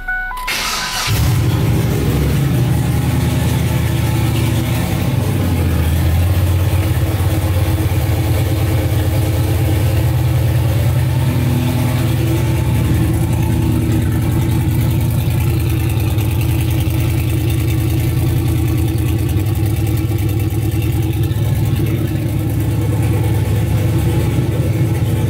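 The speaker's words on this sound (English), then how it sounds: "So watch what happens when I start the vehicle." A car engine cranks and catches near the mic, then runs on with a steady loud idle. The car has a fuel pressure gauge on the rail and a boost-cut setup aimed at preventing failure on the track.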